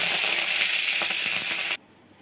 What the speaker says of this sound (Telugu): పోపు వేస్తానండి.